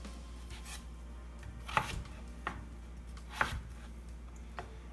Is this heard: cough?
no